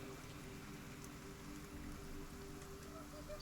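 Steady rain falls at night as a continuous, faint hiss without pauses, with no voices over it.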